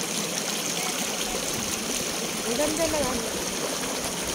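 Cold natural creek water flows over rocks at a beach resort, a steady broad rushing trickle close by, with a person speaking briefly over it.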